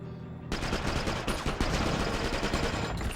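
Rapid bursts of gunfire on a barge level in the PS2 game 007 Quantum of Solace, opening after half a second of quiet into dense, loud, overlapping shots and volleys that run to the end.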